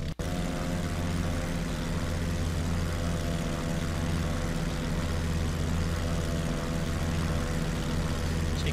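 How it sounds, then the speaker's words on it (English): A propeller airplane taxis with its engine running at a steady drone, a constant loud hum with layered tones and no pauses. "I'll show you a view from the outside of us taxiing by."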